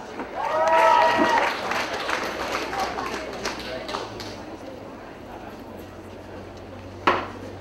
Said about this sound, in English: And a round of applause for the MPDS graduates.